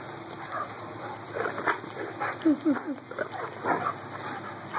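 Two dogs play together indoors, giving short whimpers, yips and playful growly vocalizations at close range, with people talking and coaxing over them throughout.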